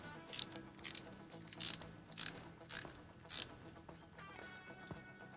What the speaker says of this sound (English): So we have a combined ratchet screwdriver and ratchet socket handle here.